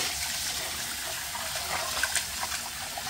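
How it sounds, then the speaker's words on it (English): Jasmine rice being washed under running water from a tap, a steady, fairly loud rush of splashing water with faint sloshing and no voices. "wash the rice. Always wash the rice."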